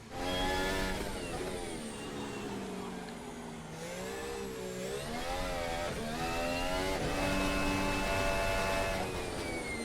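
Formula 1 car on a qualifying lap at the Sao Paulo Grand Prix in the F1 2025 video game: a high-pitched engine screaming up through the gears, dipping under braking around mid-lap and climbing again, heard steadily and alone.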